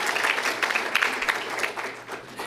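Audience applause at a political speech for a Democratic candidate for Attorney General, a dense, steady crowd clapping that carries through the whole stretch without a break.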